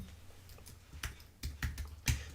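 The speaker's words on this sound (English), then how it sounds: "I guess I better type them up." Several sharp key clicks from typing on a computer keyboard, coming in irregular bursts over low background hum, fairly quiet and close.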